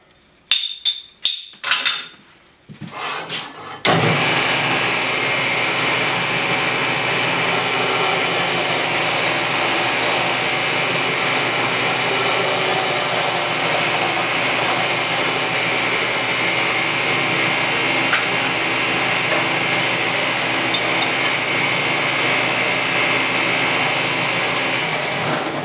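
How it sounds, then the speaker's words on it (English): After a few brief clicks and knocks, a homemade wood sander starts up and runs continuously, a steady, fairly loud motor whir with a hissing, airy tone that holds unchanged to the end. "you get to see the sander run"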